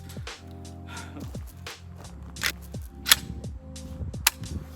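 A Hatsan Escort pump-action shotgun fires at an outdoor range: a few sharp, moderately loud reports ring out at uneven intervals over a steady low hum, with no speech.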